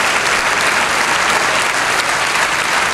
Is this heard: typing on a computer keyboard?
no